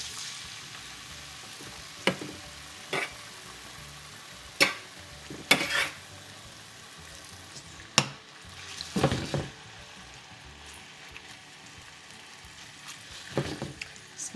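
Spice-seasoned chicken pieces fry in a pan with a soft, low sizzle, broken by sharp, intermittent clinks and scrapes of a utensil being stirred and turned nearby.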